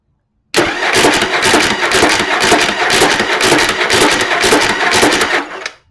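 A Yamaha Virago XV750 motorcycle's starter cranks the engine continuously for about five seconds, a loud, steady, noisy grinding churn with rapid rhythmic pulses, starting abruptly and cutting off at the end.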